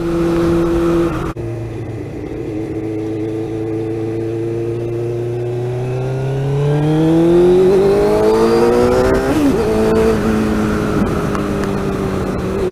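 A 1998 Suzuki GSX-R 600 motorcycle engine pulls steadily, its pitch rising toward the redline near 13,500 rpm before a gear change, loud and close with wind roar, no talk.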